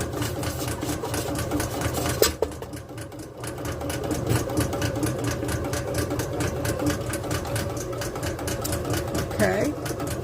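A bread machine kneads dough with a steady rhythmic mechanical whirring and clicking at moderate volume, a brief knock partway through and a voice faintly in places.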